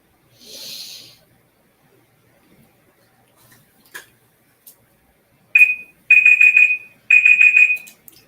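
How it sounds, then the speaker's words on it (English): A kitchen-style countdown timer goes off with loud, close repeated electronic beeping in three bursts after a stretch of near silence with a few faint clicks and a rustle, no voices. "The timer has gone off."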